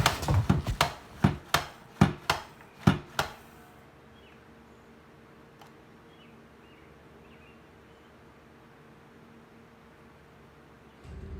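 A zucchini pushed through a slicer set to its thickest setting, cut into solid slices for dehydrating: a quick run of about ten sharp, rhythmic chopping clicks up close, then near silence.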